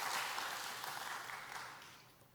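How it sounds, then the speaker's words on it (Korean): Church congregation applauding together during a Wednesday worship service, a dense, steady wash of clapping that fades gradually toward the end. "우리 다 같이 박수로 크게 격려하겠습니다"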